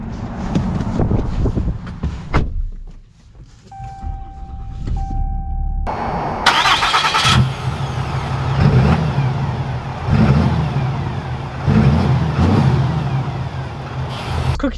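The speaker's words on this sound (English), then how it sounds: "let's take this Laramie Night Edition out and see how it drives." A 2021 Ram 2500 Laramie Night Edition diesel pickup rumbles loudly from inside the cab, with a chime sounding before the engine starts, then the deep engine revs and keeps droning steadily as the truck drives off.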